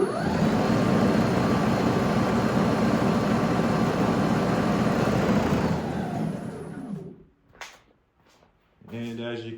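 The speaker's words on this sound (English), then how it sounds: "the auger is now spinning, and our snowblower is back to normal" A Dewalt snowblower runs steadily with its auger spinning after an auger belt replacement, a loud continuous machine roar that cuts off abruptly near the end, followed by a brief pause and then talking.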